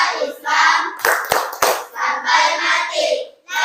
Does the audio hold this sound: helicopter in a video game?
no